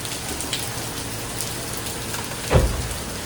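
Heavy rain pours steadily in a continuous hiss, with a brief louder thud or rumble near the end, no voices.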